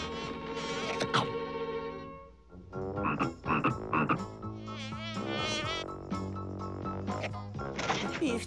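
A toad croaks in an animated Smurfs cartoon, giving buzzy, warbling croaks over sustained tonal sounds. The croaks come in irregular bursts, close and moderately loud, with a short quiet dip partway through.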